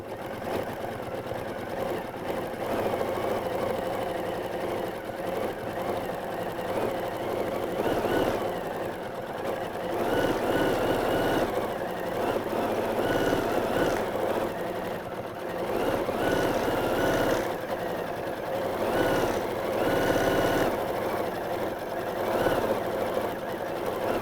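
A Horizon Memory Craft 9480 QC sewing machine stitching quilting runs in a steady, even mechanical hum with regular rapid needle pulses, continuous and close throughout with no speech.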